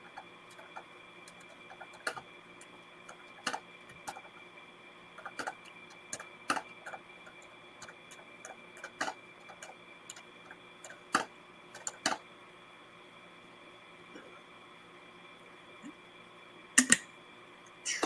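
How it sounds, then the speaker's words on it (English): Keys on a computer keyboard tapped quietly in irregular bursts of clicks with pauses between them, close by, with a couple of sharper clicks near the end and no talking. "Sorry, I'm typing something."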